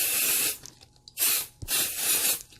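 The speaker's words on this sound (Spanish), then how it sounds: "simplemente tomamos el spray. El 505, como les dije, no deja residuos" 505 temporary adhesive spray hisses from an aerosol can onto quilt fabric, close and loud, in three bursts separated by brief pauses, with no one speaking.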